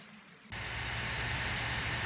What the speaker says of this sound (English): wait for this rain to disappear